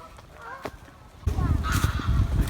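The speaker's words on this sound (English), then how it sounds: "there's a lot of geese, both in the field and in the pond." Geese honking at a field and pond at the Kew Horticultural Show, several loud overlapping calls that grow denser and closer in the second half, with faint voices underneath.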